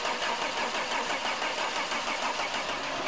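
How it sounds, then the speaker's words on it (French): A car starter cranks a cold engine in freezing weather, a steady, dense whirring churn held without a break and without the engine catching. "Il a fallu solliciter le démarreur pendant 35 secondes avant que l'huile arrive aux premières cames."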